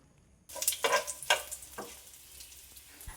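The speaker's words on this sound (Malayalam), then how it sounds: "കടുകൊന്ന് പൊട്ടി വരുമ്പോൾ നമുക്കിനി അതിലേക്ക് വറ്റൽ മുളകും കുറച്ച് കറിവേപ്പിലയും കൂടെ ചേർത്ത് കൊടുക്കാം" Mustard seeds, dried red chilies and curry leaves dropped into hot oil for a bitter gourd dish, a sudden burst of loud spitting and crackling that settles into a steady, fainter sizzle with a few stirring knocks.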